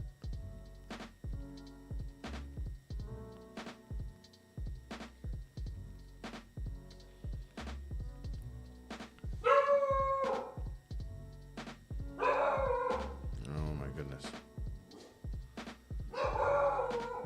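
A pet dog barks repeatedly in a home, sharp regular yaps running through the clip, with brief bursts of a person talking over them.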